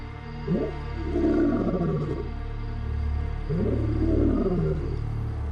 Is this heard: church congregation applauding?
no